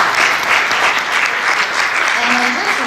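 Loud, dense applause from a crowd at a chamber of commerce breakfast, steady and close throughout, with a voice briefly audible beneath the clapping toward the end.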